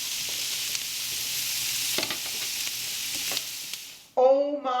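Steak sautés in a hot pan with a steady close sizzle and a few utensil clinks for about four seconds, then the sizzle cuts out and a short burst of tonal sound follows.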